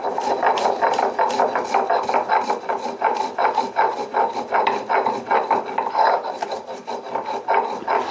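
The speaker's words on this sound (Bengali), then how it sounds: "আমি ততক্ষণে এই চাটনির যে মশলাটা, ওই মশলাটা শিলনোড়ায় গুঁড়িয়ে নিই" Chutney spices being ground by hand on a shil-nora grinding stone make a steady, close, rhythmic rasp of stone scraping stone, about two strokes per second, with no talk.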